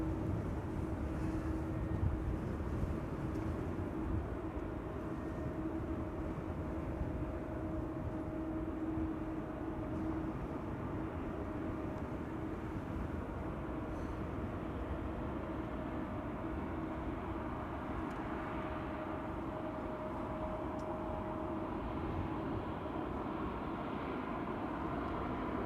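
A TUI Dreamliner taxis toward runway 24 at Amsterdam Schiphol, its jet engines heard from afar as a steady, even rumble with a faint whining tone, and no talking.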